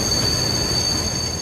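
A train on a Japanese railway line running up to Itami Station, brought to a halt by its Automatic Train Stop safety system, with a steady, loud rumble of rolling wheels and a thin, continuous high squeal of wheels on rail.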